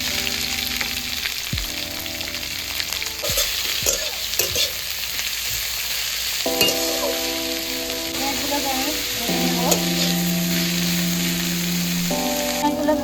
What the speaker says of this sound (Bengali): কেটে রাখা পেঁয়াজগুলো দিয়ে দিচ্ছি